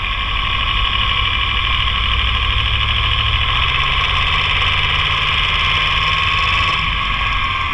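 A BMW M5 F10 engine runs rough at idle, a steady close mechanical drone with a constant hum throughout, no talking over it.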